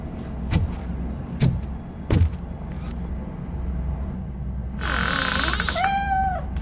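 Cat in the RoboCop: Rogue City video game giving a drawn-out meow with a rising-falling wail near the end, after several sharp clicks and knocks over a low background hum.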